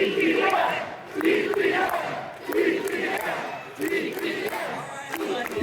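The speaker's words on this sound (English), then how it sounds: "The crowd even shouted DPM for Pat to show their appreciation for him and his team." Crowd at a card party event chanting in rhythmic, repeated bursts of shouting, loud and close, a steady cheer of appreciation rising and falling.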